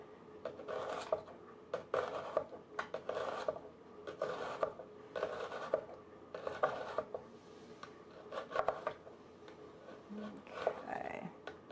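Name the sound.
knife slicing salad vegetables thin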